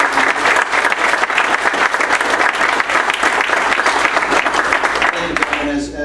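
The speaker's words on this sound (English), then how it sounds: "Can we get a round of applause for these guys?" Audience at a cyber security conference gives a round of applause for panelists, dense sustained clapping filling the room, tapering off near the end.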